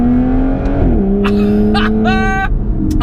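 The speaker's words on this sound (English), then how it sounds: "naturally aspirated V12s in a modern day supercar is something to celebrate" A loud, high-revving naturally aspirated V12 exhaust from an Aston Martin Vanquish S Volante wails up and down in pitch, snapping between quick throttle blips in a brief burst.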